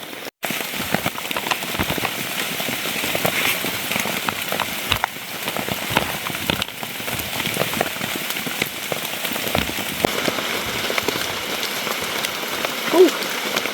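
Heavy rain pattering steadily on a dyed surplus ICS tent during a thunderstorm camp, a dense continuous hiss with scattered sharper drops, close and loud throughout.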